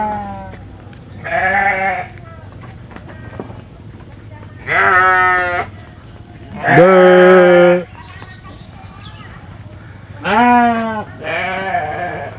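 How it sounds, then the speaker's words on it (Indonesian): Sheep bleat from a pen in a rural village during the Lebaran holiday, with several loud, drawn-out calls coming at irregular intervals over a low background hum. "aya kandang domba deh"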